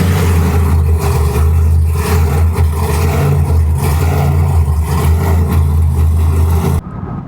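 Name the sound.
Ram TRX pickup truck engine cold start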